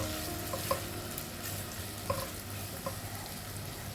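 Tomatoes, onions and green chilies sautéing in a pan, a steady soft sizzle with a few light clicks of stirring, no voices.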